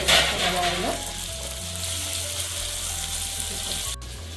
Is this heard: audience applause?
no